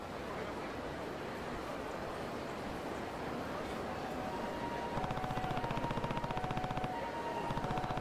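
Gunfire from a movie shoot in Yakuza Kiwami 2, heard as rapid, muffled automatic shots that are faint and distant under a steady background wash, growing a little more distinct near the end.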